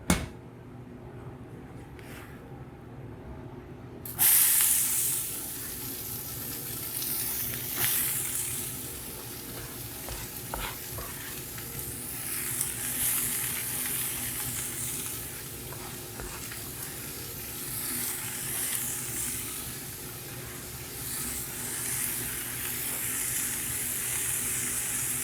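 Oil sizzles steadily in a large preheated pan while vegan chili gets underway, a soft continuous frying hiss with occasional clinks and stirring noises, no talking.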